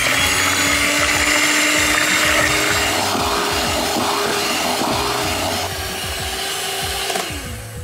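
An electric mixer whips cream for a homemade birthday cake, giving a loud, steady motor whir with scraping and rattling against the bowl that eases slightly near the end.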